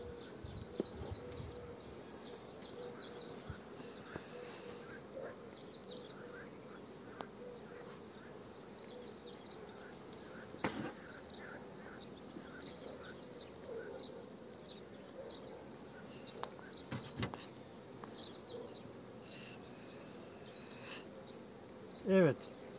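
Honeybees at a beehive, a faint steady buzzing of insects with occasional louder passes close by, quiet outdoor background throughout.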